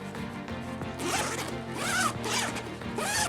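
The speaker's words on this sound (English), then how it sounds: "distribute the lubricant by closing and opening the zippers a couple of times" Backpack zippers, freshly lubricated, are pulled open and shut several times in quick succession, each pass a loud, close rasping zip over a soft background hum.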